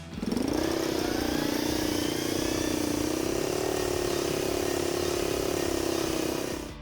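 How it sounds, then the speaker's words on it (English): A low-powered tractor engine in Farming Simulator 25 hums steadily while mowing grass and bushes, a constant mid-pitched drone with a slight rise and fall in pitch that holds at an even loudness throughout. "I hop in the tractor and start mowing grass, bushes, and anything else I see."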